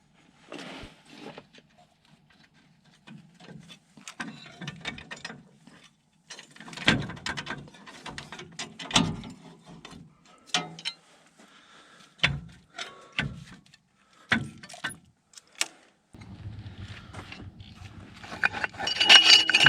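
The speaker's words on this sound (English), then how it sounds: "I think this alternator's about done anyways. It's a little grindy in there." A worn alternator turned by hand gives a series of scattered mechanical clicks, scrapes and grinding rattles at close range, uneven in rhythm and moderately loud, with no talk.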